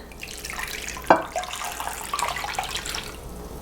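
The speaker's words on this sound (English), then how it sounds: "And then I'm going to pour the remainder of the liquid on top" Liquid is poured from a vessel over seitan in a prepared baking pan, giving a near, continuous splashing trickle with a brief clink at the start and no talk.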